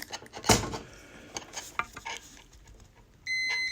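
Some light clatter and handling noises, then a steady electronic beep starts abruptly near the end and holds.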